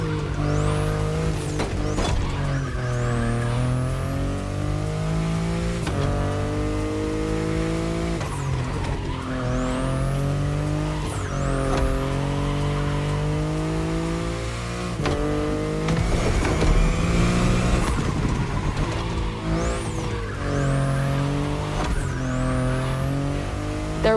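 A BMW i8 sports car drives in The Crew Motorfest, its engine holding a steady, loud hum with repeated rising revs and gear shifts, plus bursts of tire squeal, continuous throughout with no talking.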